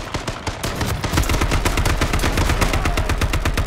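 Rapid automatic gunfire in the H1Z1 battle royale video game, a dense stream of loud, sharp shots in quick succession lasting several seconds, with no talking.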